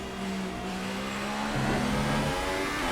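Formula 1 car engine at maximum power in F1 2018, a loud continuous high-revving whine that holds steady, then shifts pitch partway through as the gear changes, with no speech.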